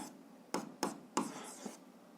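Handwriting out an algebra exercise: a pen or chalk strikes and scratches the surface in four quick, close strokes separated by brief pauses, with no talking.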